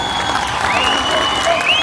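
A festival crowd at an anchovy festival in Ereğli, Turkey, applauds steadily, dense clapping filling the air with a few whistles rising over it.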